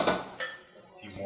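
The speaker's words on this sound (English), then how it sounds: "So I'm putting my garlic in my garlic press. I'm going to press it into there." A garlic press squeezing garlic cloves in a kitchen, giving two sharp metallic clinks followed by a softer squeak and rattle of the utensil, close and brief.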